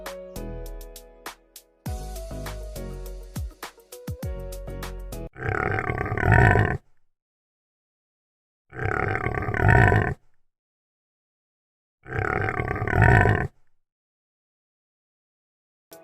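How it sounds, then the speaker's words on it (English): A pig gives three loud, rough, drawn-out grunts spaced a few seconds apart, each about a second long, following a brief musical jingle. "This is a pig."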